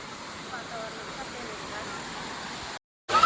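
A large waterfall pours in a steady, dense roar, with children playing in the water nearby. The noise cuts out briefly near the end and then comes back louder.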